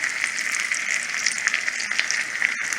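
Eight scrambled eggs frying in melted butter in a pan, a dense, steady close sizzle with small crackling pops, continuous and without any voices.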